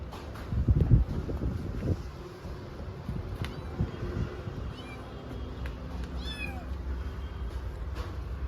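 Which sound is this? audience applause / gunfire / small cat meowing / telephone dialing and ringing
small cat meowing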